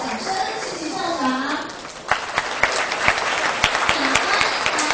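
A school crowd applauds the principal at an awards ceremony; after a stretch of talking, a burst of clapping rises and carries on steadily to the end.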